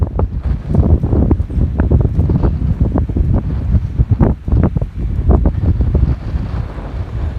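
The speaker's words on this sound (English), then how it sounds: "There's another gust." Strong wind gusts in the aftermath of a March blizzard buffet the microphone in rough, roaring bursts, rising and falling in uneven surges with no speech.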